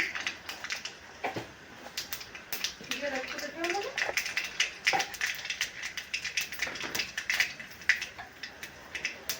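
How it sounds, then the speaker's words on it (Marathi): Half a spoon of mustard seeds crackling in hot oil for a dry drumstick-pod curry: scattered sharp pops and ticks, irregular and fairly faint, running under someone talking. "तेल एकदम छान गरम झालेलं आहे आता आपण टाकून घेणार आहे अर्धा चमचा मोहरी"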